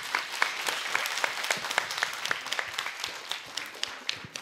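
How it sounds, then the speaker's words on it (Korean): An audience at a diocesan pro-life rally claps in steady, dense applause, loud and continuous throughout, with no voices standing out. "박수 한번 보내주세요."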